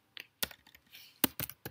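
Typing on a computer keyboard while entering text into a search bar, a handful of sharp, close key clicks in an irregular rhythm with quiet gaps between them.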